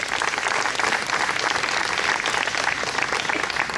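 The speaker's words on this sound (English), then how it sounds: "Let's give him a round of applause." Loud, dense applause fills a room at a municipal swearing-in ceremony as an honoree is called up, many hands clapping continuously and evenly throughout.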